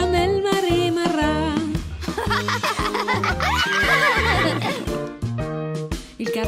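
A horse neighs and whinnies loudly within an Italian children's song, the drawn-out whinny rising over bouncy backing music with a steady beat.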